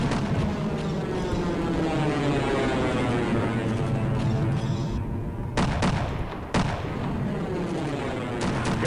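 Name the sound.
gunfire in the Half-Life video game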